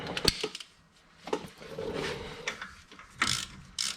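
A hand ratchet with a shallow 22mm socket clicks in short, irregular bursts while tightening the bottom ball joint bolt on a Super Duty 4x4, close and fairly quiet, with pauses between the strokes.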